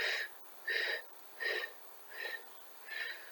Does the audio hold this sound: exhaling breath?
yes